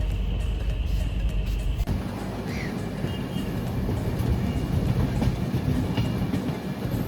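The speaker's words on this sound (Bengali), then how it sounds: "তো এখন কামাখ্যা স্টেশন ছেড়ে বেরোলো" A passenger train pulls out of Kamakhya station, heard from on board as a loud, continuous rumble of wheels and carriage noise with faint clatter, building slightly as it gets under way.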